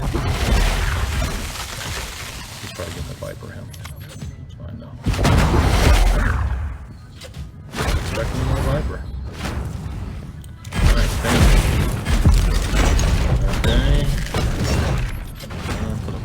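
An Earthquake spell in the Heroic Magic Duel video game rumbles and booms through several loud, heavy bursts amid busy game effects, with a voice talking over it.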